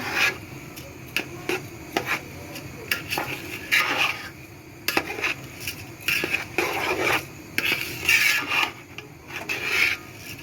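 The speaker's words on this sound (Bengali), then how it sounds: "এখানে কিছু পোলার চাল দিয়ে বিরিয়ানিগুলো রান্না করতেছি। ভালোভাবে কষিয়ে নিতে হবে।" Polao rice for biryani is stirred in a pot, producing irregular gritty scraping strokes and light clinks of the utensil against the metal, close up and with no speech.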